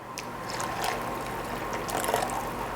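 Hot water is poured from a measuring cup into molasses for gluten-free gingerbread batter, making a soft, continuous trickling splash for a few seconds.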